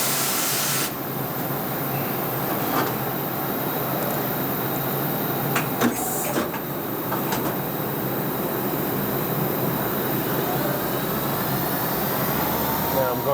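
A CNC lathe faces the end of a hard stainless steel bar and then cuts a small radius, giving a steady hissing machining roar broken by a few brief sharp clicks.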